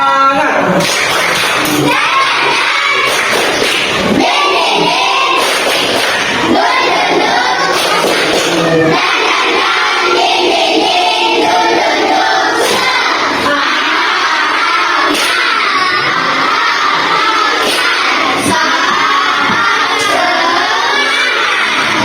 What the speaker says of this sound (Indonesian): Kalau begitu kita tepuk semangat dulu. Agar lebih semangat lagi. Tepuk semangat.